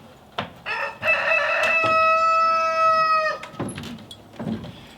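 A rooster crows once near a woodshed construction site, a loud drawn-out call of about three seconds, with a few softer clucks and knocks before and after it.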